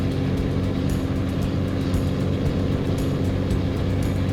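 A 12 valve Cummins truck engine runs floored while climbing a grade, a loud, steady diesel drone with deep low rumble and a faint periodic tick, heard from inside the cab.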